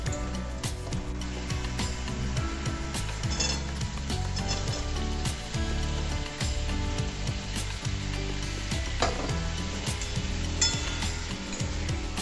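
Papaya and potato stir-frying with spice paste in a pan for a vegetarian papaya curry, a steady close sizzle broken by rhythmic scraping and stirring clatter throughout.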